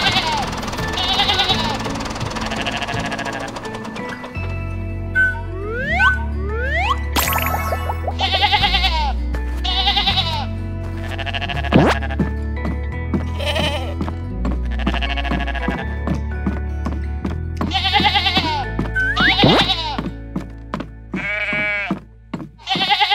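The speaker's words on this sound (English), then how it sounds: "Goats and sheep." Goats and sheep bleat repeatedly, their wavering cries rising over a bouncy musical backing with steady bass notes.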